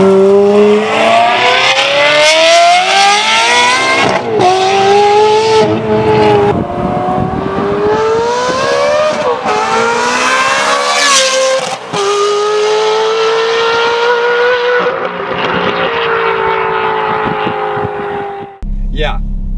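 A Ferrari sports car with a modified exhaust revs hard and loud up close, its engine note repeatedly climbing and dropping in sustained pulls over about twenty seconds.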